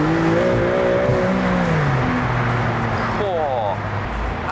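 Maserati MC20 Cielo racing-car engine roars steadily while driving, with rising and falling revs throughout, heard under someone talking close by.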